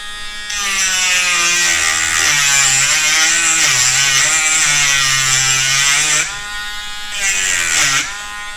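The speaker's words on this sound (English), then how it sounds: "a lot of times when you're Dremeling, you just go over it really fast" Dremel rotary tool shaping a wooden ring, a loud, close buzzing whine held for several seconds with pitch dipping and rising as it bears on the wood, briefly easing before a final short burst.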